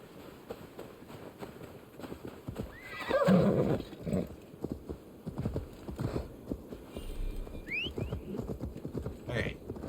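Horse in the Assassin's Creed Valhalla video game, whinnying loudly and clip-clopping along amid game noise, with a short neigh burst near the start and hoofbeats continuing throughout.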